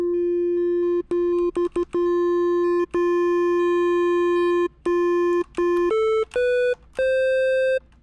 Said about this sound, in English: as I start to adjust this wavetable position knob, it's going to give us more of a sharper sound by introducing those high-end frequencies